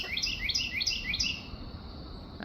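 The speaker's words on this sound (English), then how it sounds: "No, we got the birds coming in." Wild birds at a garden feeder give a rapid series of high, bright chirps, about a dozen quick notes in a row, fairly close, over soft outdoor background noise.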